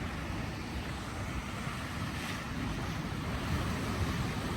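Winter waves washing on a lagoon, a faint, continuous low surf rumble mixed with wind hiss, steady and distant with no talking.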